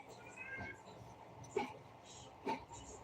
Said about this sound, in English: I have a kitty meowing in the background.